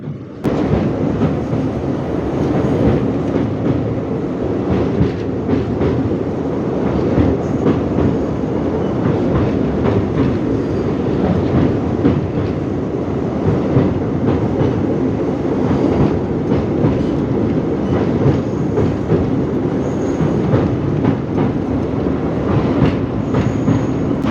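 A passenger train runs along the Rameswaram route with a loud, steady rolling rumble and a faint rhythmic clatter of wheels that carries on unbroken throughout.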